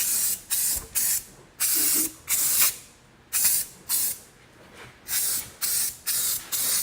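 Liquid spraying out in repeated loud hissing bursts, about a dozen short blasts with brief pauses between them, close and harsh.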